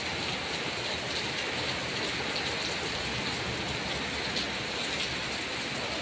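Heavy rain pours steadily in Jeddah, Saudi Arabia, in a dense, constant hiss, close and uniform throughout, with no voices.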